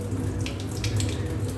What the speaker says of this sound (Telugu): అవుట్పుట్లో వాటర్ వస్తుంది.